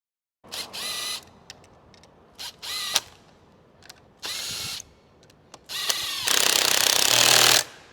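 A power tool runs in short close bursts while a bolt is installed on a 2019 Mercury 300 V-8 outboard during an alternator belt replacement, with a longer, louder burst at the end and quiet pauses between.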